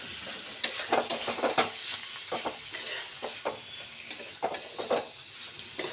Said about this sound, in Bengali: একটু বেশি করে ধনে পাতাটা দেবো। এটাকে ভালো করে মিলিয়ে নেব।